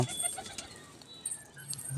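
A released Kalanko pigeon gives faint, soft coos across two seconds, with light fluttering in a quiet outdoor space.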